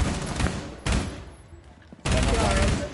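Video game gunfire in two dense bursts of rapid shots, loud and close, with a quieter gap in between.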